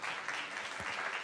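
A short burst of crowd applause at a museum fashion event celebrating Cicely Tyson, a dense even patter of clapping hands heard for just over a second, moderately loud with no voices on top.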